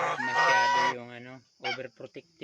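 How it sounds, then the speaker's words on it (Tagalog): A goose lets out a long, loud honk, then a short series of clipped honks after a brief pause, close and clear. "Ayan yung gansa namin."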